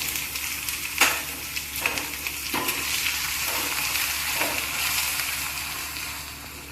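Ingredients for a tempering fry in oil in a small pan, a constant crackling sizzle punctuated by several scraping stirs, close and steady without voices.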